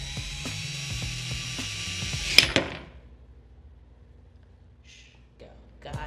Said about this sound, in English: I'm gonna try and do it by drill.